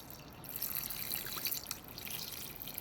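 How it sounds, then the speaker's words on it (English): Water poured into a Nama M1 nut milk maker holding pistachios, a faint, soft trickling splash running steadily for a few seconds without speech. "Now I'm adding the water."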